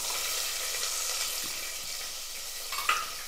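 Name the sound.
sautéing chopped shallots in oil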